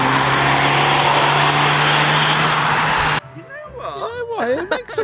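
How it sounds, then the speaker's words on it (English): Whistling exhaust from a car fitted with a cheap rear wing: a loud, steady roar carrying a high whistle tone for about three seconds, cut off abruptly, followed by someone talking. "it sounds like you put a whistle in an exhaust"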